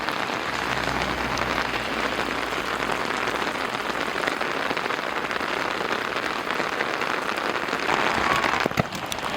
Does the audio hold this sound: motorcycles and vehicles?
no